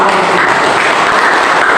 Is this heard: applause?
yes